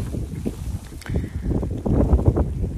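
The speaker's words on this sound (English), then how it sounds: "whoa, it's windy" Gusty wind buffets the microphone with low rumbling bursts that rise and fall irregularly, growing stronger toward the end.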